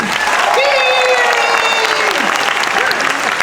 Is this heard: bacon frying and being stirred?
no